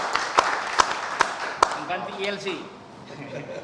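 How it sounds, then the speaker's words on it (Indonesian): On a tvOne talk-show set, four loud, evenly spaced claps ring out in the studio, then the clapping stops and someone speaks. "Tepuk tangan yang boleh, Bapak-Bapak sekalian."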